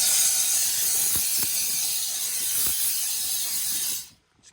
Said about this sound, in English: Gonna put a little steam just to add a little bit of water.